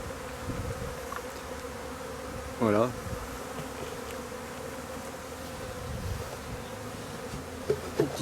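A honeybee swarm hums steadily close by, with a dense clustered buzz running throughout and one louder individual bee passing near the middle.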